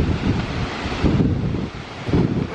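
Strong storm gusts from storm Miguel buffet a cheap flexible greenhouse, with loud rushing wind surging in repeated waves and heavy blustering against the microphone.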